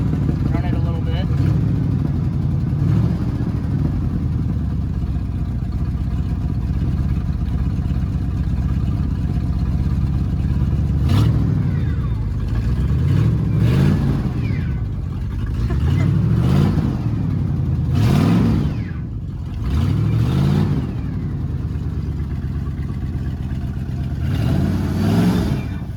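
An old 1979 Ford F100 pickup truck's engine runs in neutral, its low throbbing idle swelling several times into revs, loud and close, with talk over it.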